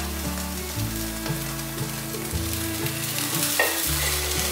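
Flattened batter frying in a pan gives a steady, close sizzle that runs the whole time beneath tonal background music, with no voices.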